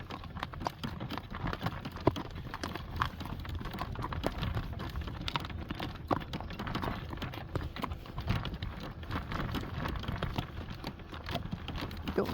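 Hooves of a horse at a brisk fast walk patter continuously on a caliche dirt road for several seconds, an even, busy rhythm of small knocks at moderate distance, with no speech.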